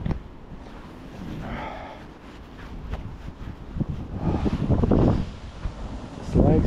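Wind gusting over a river during a July vimba fishing trip on the Lielupe, rushing and buffeting the microphone in swells, with someone talking through the middle and end.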